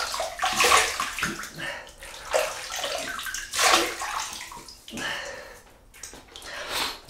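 Water splashes in bursts as hands wet a face before a shave with a GEM Micromatic razor and Colgate mug soap, several close splashing pulses with small sniffs between.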